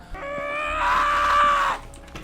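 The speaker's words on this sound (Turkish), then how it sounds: "Çok bağırıyor." The mother character in the SchoolBoy Runaway video game lets out a long, loud, sustained scream that swells and then cuts off abruptly.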